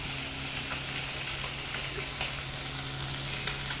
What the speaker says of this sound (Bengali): এদিকে মাছগুলো আমার ভাজা হয়ে গেছে